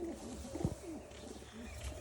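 Nepali yellow-eyed chocolate pigeons, a pair of young birds, giving soft low cooing notes, faint and close, with a brief louder burst in the middle.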